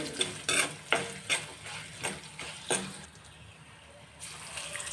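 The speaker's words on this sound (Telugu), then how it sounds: "అల్లం వెల్లుల్లి పేస్ట్ పచ్చివాసన పోయే వరకు ఫ్రై చేసుకోవాలి" Ginger garlic paste frying in a pan for jeera rice, with sizzling and rhythmic spoon strokes in the first few seconds that then thin out to a quieter hiss.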